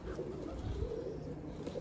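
A bird in a video game gives soft, low cooing like a pigeon or dove, faint and brief against a quiet background.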